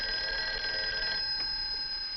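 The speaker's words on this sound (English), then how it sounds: "Hey, that's your phone" A household telephone bell rings loudly nearby, a bright, continuous electric trill that stops partway through, leaving a fainter lingering tone, with no voices.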